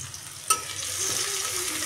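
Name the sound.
chopped onion and garlic frying in a wok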